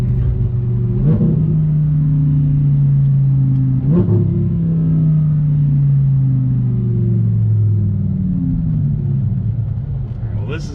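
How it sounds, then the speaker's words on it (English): Loud 2015 Audi R8 V10 with a custom exhaust, its engine droning steadily from inside the car with a few throttle blips and rising revs, while people talk over it. "this has a very loud custom exhaust"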